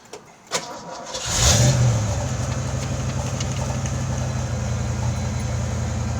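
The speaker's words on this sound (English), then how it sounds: "So this is a cold start." A 1989 Ford Mustang cold-starts on a 60-degree morning: a short crank, then the engine catches with a loud flare and settles into a steady, even idle that continues alone.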